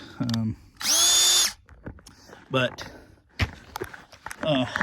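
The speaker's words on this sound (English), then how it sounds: "I got this really nifty tool attachment that goes onto your drill, and this cuts the steel." A power drill fitted with a steel-cutting attachment revs in one loud, steady burst as it cuts steel, with a person talking before and after and some handling noise.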